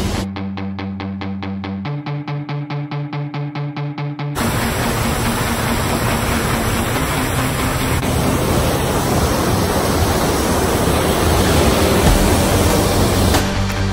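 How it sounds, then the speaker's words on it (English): A Hawaiian waterfall roars as steady, dense broadband rushing water, loud and close throughout, following a few seconds of a tonal pulsing musical sound at the start. "We're at the waterfall and it's so cold."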